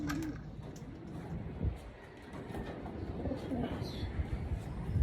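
Racing pigeons coo softly and repeatedly in a loft during training, heard faintly beneath a person speaking over steady background noise.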